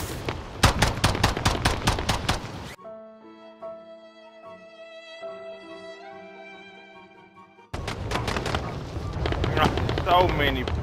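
Rapid gunfire in the Warzone video game comes in two loud stretches of quick automatic shots, separated by a quieter passage of sustained tonal music or hum.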